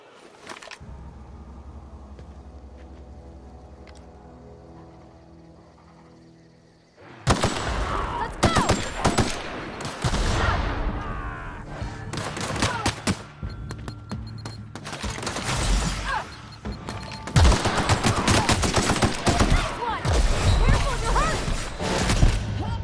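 Rapid bursts of gunfire from the video game The Outer Worlds, loud and dense after a quiet opening, with clattering shots and thuds continuing in waves to the end.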